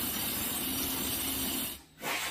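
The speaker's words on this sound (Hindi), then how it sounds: "अब इसको मैं काट लेता हूँ फटाफट ग्राइंडर से" Angle grinder cutting a slot in a countertop for a table-top wash basin, a loud, steady, hissing whine that runs continuously, then briefly drops off and comes back up.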